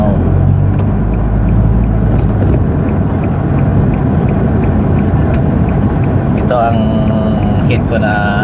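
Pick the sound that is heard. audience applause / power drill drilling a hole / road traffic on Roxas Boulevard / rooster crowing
road traffic on Roxas Boulevard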